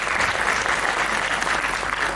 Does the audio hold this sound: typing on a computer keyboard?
no